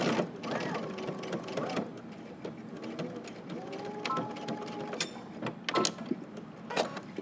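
A sewing machine stitches a jacket collar in short bursts of whirring, mechanical needle strokes with pauses between them, heard close under a voice that talks over the work.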